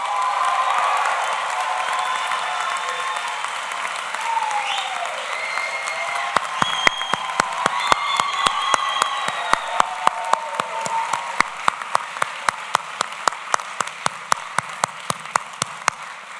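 Sustained applause from a large crowd at a university commencement ceremony in Switzerland, a dense steady wash of clapping that carries on for the whole stretch, with sharper individual claps standing out more in the later part.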